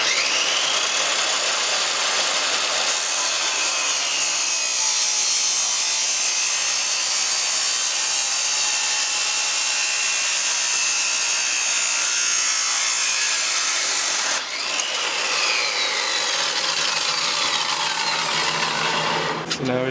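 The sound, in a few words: cutting a metal exhaust downpipe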